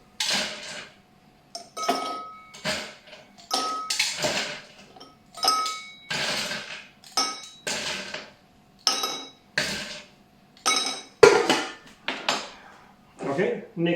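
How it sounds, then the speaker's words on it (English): Ice cubes are dropped into a drinking glass while a Pimm's Cup is made, a series of about a dozen sharp clinks and rattles spaced a second or so apart, close and crisp with quiet gaps between them. "We take our glass of choice and we're gonna put some ice cubes inside."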